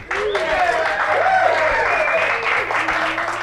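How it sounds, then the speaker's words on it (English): Applause from a small studio audience in a New York City room welcoming Billy Idol, a steady close wash of clapping with a low hum underneath, no talk over it. "a round of applause from our small audience in the room today"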